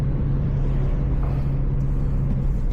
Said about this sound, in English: I will step on the throttle like here